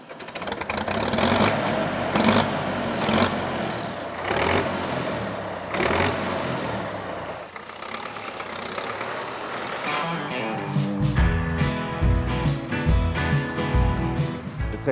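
A Belarus 940 tractor engine runs with a rough diesel chug, rising and falling in loud bursts before settling into a heavier, pulsing rhythm toward the end.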